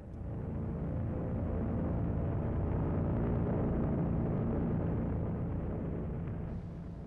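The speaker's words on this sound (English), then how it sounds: "Three million German troops and thousands of tanks storm the entire length of the frontier" A continuous deep roar of German tanks and troops storming a frontier at dawn, a dense, low rumble that swells and holds steady without distinct individual events, with no voices.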